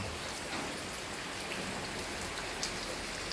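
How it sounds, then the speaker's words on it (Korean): Steady rain falls in a continuous hiss in a countryside village, close and even, with scattered drops pattering on a surface and no voices. "오늘 오전부터 비가 오기 시작해가지고"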